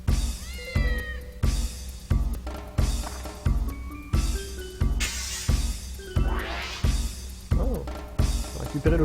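A stray cat in the video game Dark Cloud meows in a string of short, evenly spaced cries, loud and close, about a dozen in a row with no talk over them.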